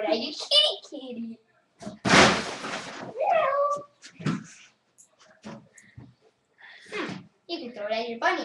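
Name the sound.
cat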